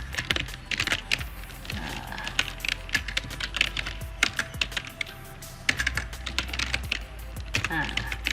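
Quick, uneven clatter of fingers typing on a computer keyboard, the close key clicks running almost continuously with brief pauses, recorded indoors alongside computer use for reaching blocked websites.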